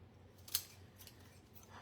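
Scissors cutting through craft paper prints, heard as two short, crisp snips spaced over a second apart in an otherwise quiet room.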